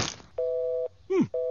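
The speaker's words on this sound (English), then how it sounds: "Phone's off the hook." A steady electronic phone off-the-hook tone cuts in and out in two long bursts, separated by a brief swooping sound, fairly quiet and close.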